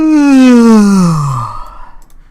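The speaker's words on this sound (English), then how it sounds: "might be wondering why I'm yawning" A person yawns aloud: one long, close, voiced exhale whose pitch slides steadily downward over about a second and a half, then trails off into faint breathy noise.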